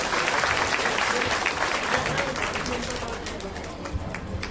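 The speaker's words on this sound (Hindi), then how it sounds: "जोरदार ताली बजा" A crowd at a ceremony where a state agriculture minister hands tractors to women's self-help groups claps loudly and continuously, a dense roar of applause with a voice faintly beneath.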